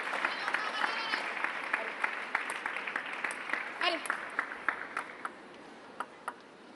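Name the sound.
Team China players applauding a table tennis rally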